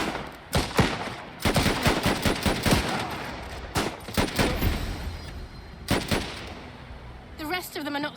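Gunfire in the Last Train Home video game, with repeated sharp rifle and machine-gun bursts in clusters, loud and near, with brief pauses between volleys and a voice heard near the end.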